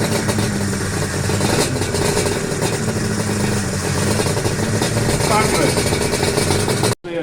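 A classic Suzuki two-stroke racing motorcycle fitted with silencers, on a wet parade lap: a continuous buzzing engine drone, steady and fairly loud, with a voice talking over it, ending in a sudden cut.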